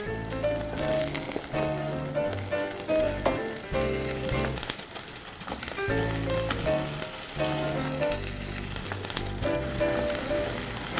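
Sliced apple sizzling in butter and honey in a pan: steady crackling fry with bursts of bubbling and occasional stirring clinks, close and continuous, with faint background music and no talk.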